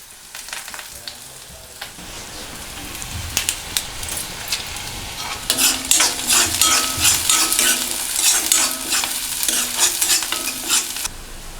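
Chopped shallots, curry leaves and dried chillies hitting hot oil for Kerala-style kozhukatta: quieter stirring gives way to a sudden loud, crackling sizzle that keeps spitting and popping, close up and without talk.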